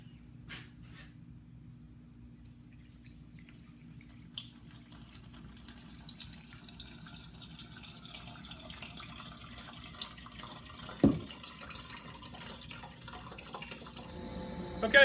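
Acid solution trickling through two large coffee filters during gold recovery from CPU scrap, a faint, steady liquid patter that grows slightly louder over time with a few sharper drips, no voices.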